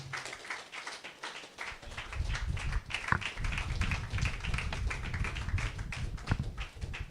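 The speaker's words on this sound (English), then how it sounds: "Keep clapping." An audience stands and claps for a lecturer, Dr. Susan, at a business and real estate school, steady dense applause that swells louder after the first couple of seconds and keeps going.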